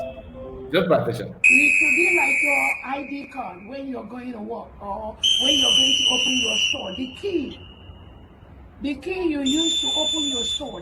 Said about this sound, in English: You can hear the sound of whistle,